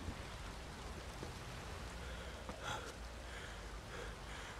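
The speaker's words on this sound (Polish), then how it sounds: "Ostatnio w każdym odcinku pada." Steady rain falls in the video game The Witcher 3, a dense even hiss of drops on the ground with no talk, holding at a constant moderate level.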